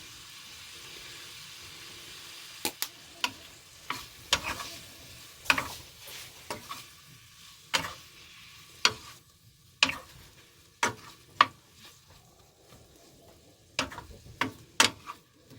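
Onion and Brussels sprouts fry and caramelize in a pan, a quiet low sizzle underneath a string of sharp clicks and taps from a utensil against the pan, irregular and fairly close.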